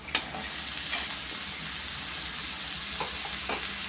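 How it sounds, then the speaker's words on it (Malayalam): Chopped snake gourd frying with onion, chillies and curry leaves for thoran, a steady close sizzle broken by a few scraping stirs of a spoon in the pan. "നല്ലപോലെ ഒന്ന് ഇളക്കി യോജിപ്പിക്കാം."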